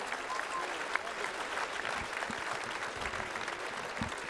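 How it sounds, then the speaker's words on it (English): Steady applause from a sizable crowd at a fighting tournament in Lithuania, continuous clapping throughout with occasional cheers mixed in. "Please, big applause."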